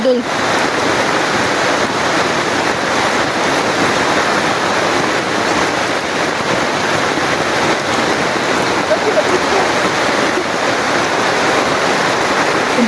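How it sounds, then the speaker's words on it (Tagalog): Very heavy flood rain pours down in a steady, dense roar of water that holds unbroken and loud throughout, with no clear voices above it. "lakas talaga ng ulan oh"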